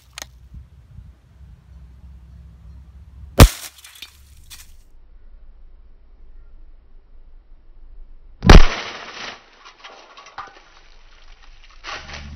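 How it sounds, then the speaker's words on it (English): Two sharp, loud cracks of a .22LR rifle firing Winchester Subsonic rounds at a deodorant can, one early and one later, each followed by a brief hissing rattle, separated by near-silence. "So we just shot it with the 22LR and made a nice hole right there and exit"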